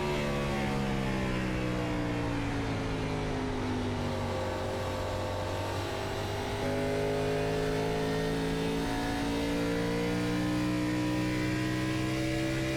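Onboard race car engine from a Gen 4 series sim race at Motegi, a loud, steady high-revving drone with rising and falling harmonic sweeps through gear shifts, continuous throughout with no talk.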